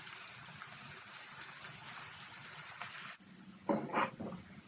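Sliced onions with a little salt frying in hot oil for Punjabi-style chicken, a quiet, continuous sizzle that briefly dips before a few louder stirring scrapes and bursts.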